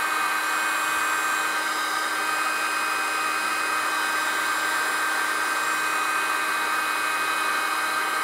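A heat gun blows steadily for several seconds, shrinking heat-shrink tubing over freshly crimped wire ends on an HPA compressor; a constant airy hiss with an electric motor whine, close and unbroken throughout.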